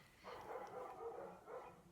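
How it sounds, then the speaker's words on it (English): A noisy dog barking outside at a distance, faint muffled barks coming in about three short bursts through an open door. "there's a very noisy dog out there"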